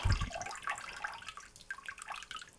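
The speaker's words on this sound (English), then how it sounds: "Gently shake, not too much. Let the water drain off." Water draining and splashing off a handmade papermaking mould after it is lifted and gently shaken in a vat of warm water, a close burst of trickling at the start easing into lighter dripping and splatter.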